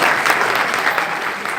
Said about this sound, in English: Give him a round of applause for the Madaan family.